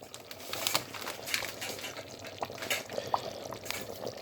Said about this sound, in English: And then you stir it. Stir it in.